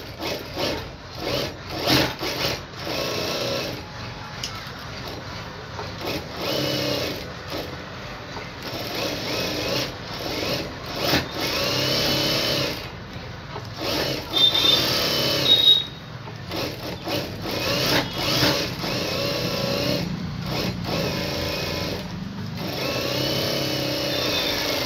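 A sewing machine stitches a lined blouse in uneven bursts of whirring, pausing and restarting between runs of stitches, with handling of cloth in between.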